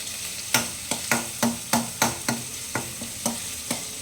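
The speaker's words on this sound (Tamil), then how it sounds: "கொஞ்சம் எண்ணெயில் அது வதங்கட்டும்." Pepper and garlic frying in oil in a pan, a steady bright sizzle punctuated by about a dozen sharp spoon scrapes and taps in a quick, fairly regular rhythm, close and fairly loud, with no talking.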